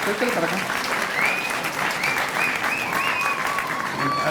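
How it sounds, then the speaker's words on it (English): Audience at a winter high school commencement ceremony claps in a loud, sustained round of applause, dense and even throughout, with some voices and cheers mixed in. "let's give her another round of applause to get back to the stage"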